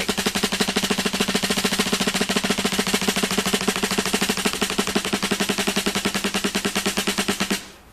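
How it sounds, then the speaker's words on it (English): A snare drum is played in a closed single stroke roll, fast even alternating strokes forming a dense, steady rattle at close range for several seconds before stopping abruptly. "show you what a closed single stroke or alternating stroke roll sounds like"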